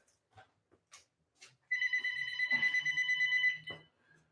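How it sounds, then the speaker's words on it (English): A telephone rings with a bright electronic trill lasting about two seconds, loud and close, after some faint bumps and handling sounds. "let me grab this phone really quick"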